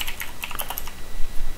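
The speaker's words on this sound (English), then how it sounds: "I'm sorry if you can hear my keyboard" Computer keyboard keys clatter in quick, light taps, a short burst of close typing with no voices.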